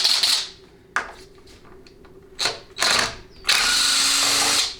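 A power tool backs E12 inverted Torx bolts out of a 6L80 transmission case in several short whirring bursts, ending with one longer loud run, close and with no talk.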